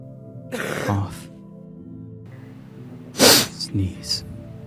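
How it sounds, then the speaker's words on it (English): Two throaty coughs, each a short harsh burst followed by a smaller catch, close to the microphone with a quiet pause between them. "Cough."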